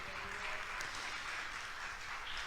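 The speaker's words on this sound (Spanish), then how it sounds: "¿Cuánto le dan un aplauso al Señor Jesucristo?" Church congregation applauding in praise of Jesus Christ during a Spanish-language sermon, a steady, dense wash of clapping from many hands that continues evenly throughout, fairly distant and soft.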